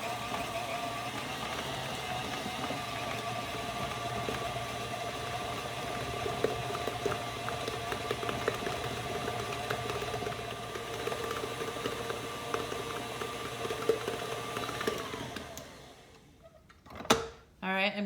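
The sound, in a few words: electric mixer creaming butter, brown sugar and granulated sugar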